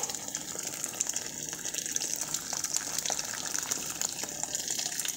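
Boiled water is poured into a cooking pot for a stewing dish of ham with white beans, a steady, continuous gushing splash heard up close with no voices.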